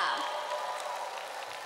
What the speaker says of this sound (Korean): 멋진 열정 보여준 우리 조중현 씨께 다시 한번 큰 박수 부탁드립니다